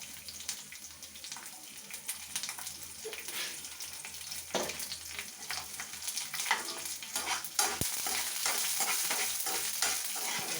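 A small piece of ginger and four garlic cloves sauté lightly in a pan for coriander chutney, a close, lively sizzle with repeated spatula scrapes and stirs that grows fuller toward the end, with no speech.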